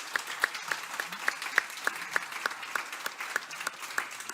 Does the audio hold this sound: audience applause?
yes